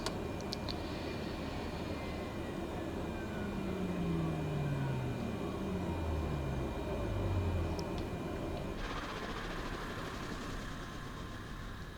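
Aircraft engine shutting down in Microsoft Flight Simulator 2020 at the end of a flight from the Isles of Scilly to St Just: a steady droning hum with falling tones as it spools down, then a broad rushing noise swells near the end.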